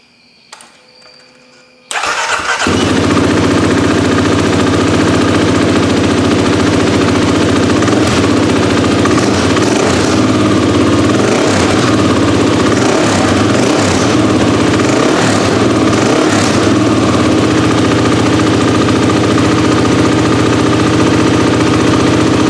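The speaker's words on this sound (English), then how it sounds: "fire it up." A 2024 Kawasaki KLX300 dirt bike fitted with a Delkevic exhaust and a KDX snorkel fires up after a brief quiet moment, then settles into a loud, steady, close idle that continues throughout.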